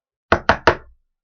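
Three crisp, evenly spaced knocks on a door come loud and close against complete silence, each one short with a quick decay.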